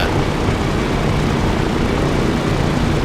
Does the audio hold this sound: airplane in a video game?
yes